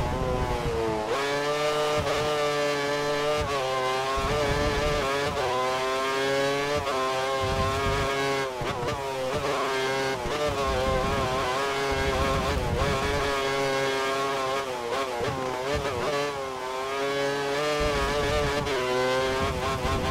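Racing car engine held at full throttle in the F1 2013 video game during a practice session at Suzuka, Japan, a loud continuous high-pitched whine with rising and falling pitch as gears change, running steadily throughout with no talk.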